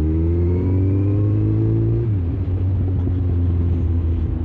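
Kawasaki Z1000 motorcycle engine heard while riding, a loud steady rumble with a clear pitch drop partway through as revs ease, continuing as a constant drone with no talk.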